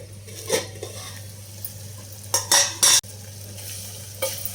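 A spoon stirs tomato pieces in a pot for tomato rasam, giving scraping scrapes and soft sizzles over a steady low cooking hum, with a few louder clanking strokes toward the middle.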